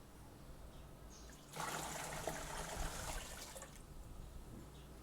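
Soft water poured into a Jadam sulfur mixture, a steady close gush that runs for about two seconds over a quiet background hum and then stops, with no voices.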